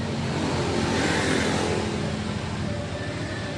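Worn differential gear set on a PS 120 truck growling steadily in fourth gear, a continuous loud drone and whine under road and engine noise with no gaps.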